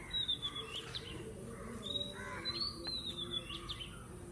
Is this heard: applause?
no